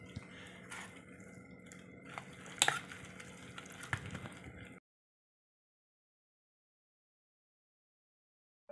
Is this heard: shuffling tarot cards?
no